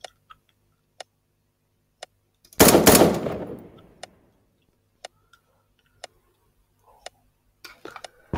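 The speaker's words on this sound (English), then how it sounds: "Those are warning shots." Warning shots in the Voxiom video game: one loud close burst of gunfire that fades into an echoing tail, set among sparse sharp ticks and faint clicks, with no talk.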